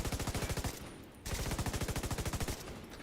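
Rapid automatic gunfire from a video game shootout, loud sustained bursts of evenly spaced shots with a brief pause before firing resumes, no talking.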